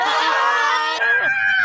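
A cartoon badger beetle monster lets out a shrill roar that blends into the panicked screams of fleeing characters, one loud, brief burst heard alone.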